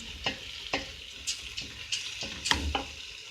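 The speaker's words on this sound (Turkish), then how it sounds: "Mercimeğini koyalım. Şöyle bir karıştırayım." Lentils being stirred into a soup pot with celery for a winter lentil soup, a spoon scraping and knocking in short strokes over a faint sizzle, close and moderately quiet with no talking.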